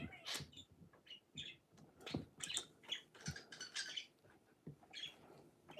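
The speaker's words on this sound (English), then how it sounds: "I do not know why my bird sounds like a ukulele, but maybe you could remix his squeaks" A pet bird gives a series of soft, close squeaks and chirps in irregular bursts, fairly quiet with small rustling sounds between calls and no speech.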